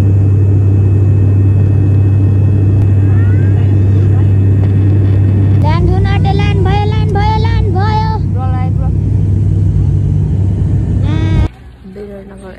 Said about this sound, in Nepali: विराटनगर एयरपोर्टमा ल्यान्ड गरिसक्यौं हामी